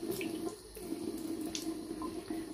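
Water streams steadily from a tap, splashing into a sink during face washing, and sounds as a continuous close hiss and gurgle with no voices over it.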